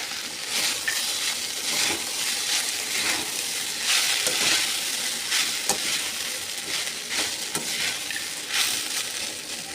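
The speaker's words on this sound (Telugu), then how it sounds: "స్ట్రెయిన్ చేసి పెట్టుకున్నాం కదా అటుకులు వాటిని వేసుకోవాలి బాగా కలుపుకుందాం" Flattened rice (poha) being stirred into a hot tempering in a pan for atukula pulihora: a steady loud sizzle with repeated scraping, crunchy stirring strokes, close up with no talking.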